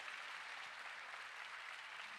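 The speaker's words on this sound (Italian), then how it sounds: "l'applauso te lo faccio sentire ancora più bello e più forte" Applause from an audience at a live Christmas event in Ollolai, Sardinia, heard as a faint, steady wash of many hands clapping, continuous and distant with no talk over it.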